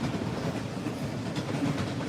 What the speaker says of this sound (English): I swear it's a long train.